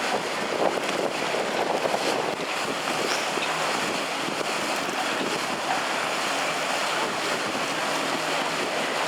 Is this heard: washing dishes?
no